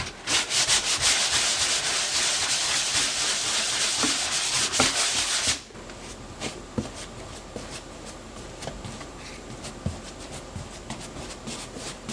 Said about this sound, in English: Now that it's dry, I can sand it down and put another layer of primer on it.